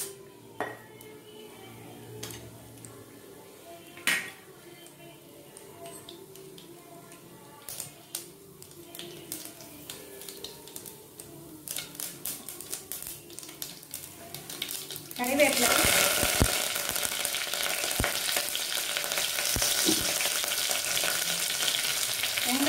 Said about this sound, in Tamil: இப்போ நம்ம வந்து குழம்பு தாளிச்சுக்கலாம்.